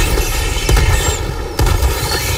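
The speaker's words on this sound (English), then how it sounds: "somebody got an auto cannon now?" Heavy autocannon fire in the video game Helldivers 2, loud booming shots under dense continuous battle noise, with a couple of sharp percussive blasts standing out over the din.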